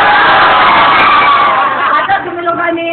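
A crowd cheers and shouts in celebration at a political victory gathering, a dense, loud wash of voices and whoops that holds steady throughout, with some individual shouts rising near the end.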